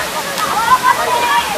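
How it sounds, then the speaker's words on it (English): At a Mumbai water park, water pours continuously from above in a loud, steady splashing rush with faint bright gurgles on top. "place where water keeps continuously pouring on your head"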